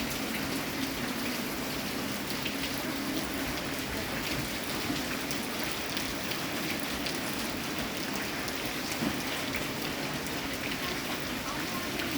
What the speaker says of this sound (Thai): ฝนตกตอนหน้าหนาวนะคะพี่น้อง